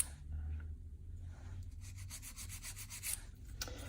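Hand nail file rubbing back and forth across a fingernail to taper its shape, a close, soft scratchy rasping in short repeated strokes with no talking.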